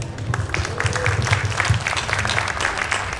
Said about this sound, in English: Can we have a hand of applause?